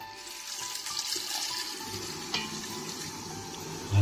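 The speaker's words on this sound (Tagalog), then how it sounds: "lalagay ko naman ulit ho ng konting tubig" Water pours into a pot over a steady sizzle of dinuguan cooking, with a faint clink partway through.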